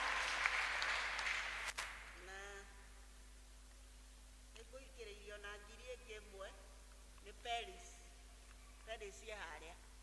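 A church congregation claps at a Kikuyu Choir Sunday service. The applause is a brief burst that fades within about two seconds, then someone speaks alone over a quiet hum.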